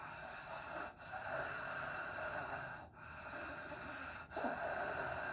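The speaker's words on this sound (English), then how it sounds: "I actually will have my students inhale and exhale noisily." Someone demonstrates noisy breathing, with rough, airy inhales and exhales repeating several times, close and fairly quiet, separated by brief pauses.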